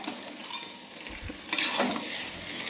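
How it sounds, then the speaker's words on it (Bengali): Chicken pieces going into hot, spice-cooked oil in a pan, with a soft sizzle under scraping stirs and a brief louder burst of frying partway through. "তেল উঠে গেছে। এবার আমরা চিকেনটা দিয়ে দেবো।"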